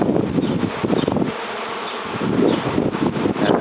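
Honeybees buzzing around a hive, a dense continuous drone of many insects close by, briefly easing and then swelling again.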